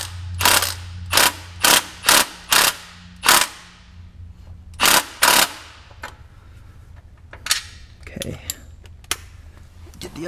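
A ratchet wrench tightens engine bolts during an engine swap on a Subaru BRZ / Scion FR-S / Toyota 86, sounding as loud, close bursts of rapid clicking in a steady rhythm, then scattered softer clicks and knocks.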